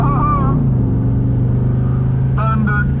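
Drag race car launching at a dragway, a loud sustained engine roar with rising harmonics at the start, steady rumble throughout, and a commentator's voice over it near the end.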